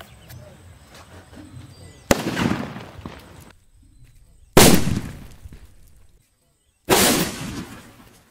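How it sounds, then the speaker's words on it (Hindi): Three Green Atom Bomb sutli firecrackers explode one after another during a Diwali cracker test, each a loud, sharp blast with a short rumbling decay, spaced a couple of seconds apart over quiet background noise. "यहाँ पर ग्रीन एटम बम को टेस्ट करने वाले हैं"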